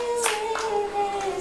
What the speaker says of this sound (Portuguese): Vocês podem bater palmas.